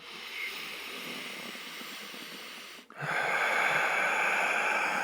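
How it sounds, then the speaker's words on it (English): A man breathes slowly and consciously through his nose, one long hissing inhale followed by a brief pause and a louder, steady airy exhale, close and alone. "You're breathing in and out. You have awareness. You're breathing through your nose."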